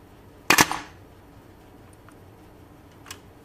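A WE M4 gas blowback airsoft rifle fires a single sharp crack followed by a short metallic rattle, then a faint tick a few moments later in a quiet indoor setting.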